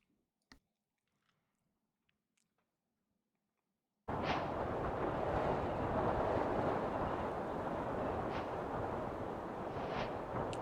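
A rocket launching in modded Minecraft (FTB Skies Expert) gives a loud, sustained roaring rumble that cuts in suddenly after near silence and holds steady, with a few brighter bursts on top.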